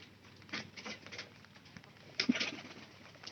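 Pigeons in a home pigeon house cooing softly with faint rustling and pattering of feet and wings, a sharper flutter near the end, no talk.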